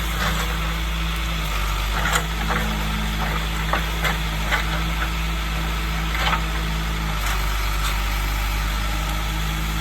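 A John Deere 310 backhoe engine runs steadily while clearing trees for a homestead, a continuous low idle-like rumble with faint intermittent knocks and clatter over it, no talking.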